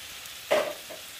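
Chicken breast pieces drop into a pot with a little oil, giving a short burst of sizzle that quickly fades to a faint crackle.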